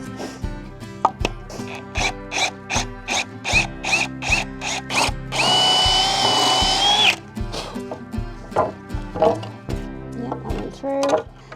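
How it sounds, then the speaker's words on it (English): An electric drill bores a pilot hole through wood, whirring steadily for about two seconds, surrounded by a run of sharp, evenly spaced knocks and a rhythmic background. "So I'm going to drill straight through there"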